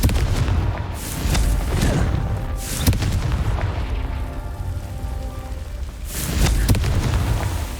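Explosive Confringo spell blasts in the Hogwarts Legacy game, several loud booming bursts with broadband crackle spaced through a rumbling battle din.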